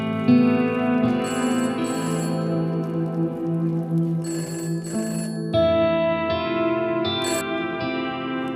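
A telephone rings indoors at home in repeated electronic tone bursts with brief gaps, loud and close, with no talking over it.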